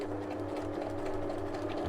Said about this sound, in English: I'm just going to sew it with a zigzag stitch.